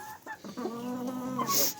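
Chickens on a farm give a short, close burst of clucking, with a rising cackle and a brief higher squawk at the end.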